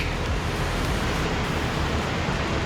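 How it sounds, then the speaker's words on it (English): Fish Creek rushes and cascades along the John Muir Trail, a dense, loud, unbroken roar of white water heard up close with no other sounds. "Really beautiful as the water cascades down here."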